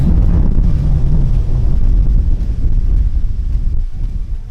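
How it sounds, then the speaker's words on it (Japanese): Strong wind blowing at night around a tent at Togakushi Campground, a mountain campsite, a loud continuous roaring rush with deep buffeting gusts close to the microphone and no talk. "そして夜中中強風が続きました。"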